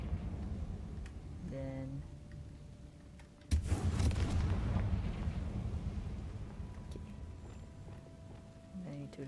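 A Confringo explosion spell goes off in Hogwarts Legacy as a sudden burst and a rumbling blast that fades over several seconds, following a short spoken word amid game footsteps and ambience.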